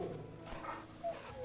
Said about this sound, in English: This is Torgal. Torgal's my dog.